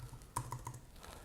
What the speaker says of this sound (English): let's type that again.